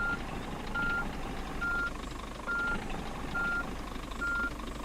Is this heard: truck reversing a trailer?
yes